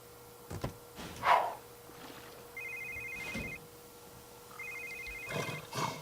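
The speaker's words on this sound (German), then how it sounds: "Und Telefon. Bei wem?" A telephone in The Sims 3 rings with two short electronic trilling bursts separated by a brief pause, moderately loud over quiet game ambience and faint vocal sounds.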